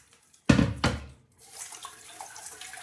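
A mix of rice, beans and lentils is rinsed in water in a home kitchen, opening with two sharp knocks or splashes and followed by softer, steady running and sloshing water.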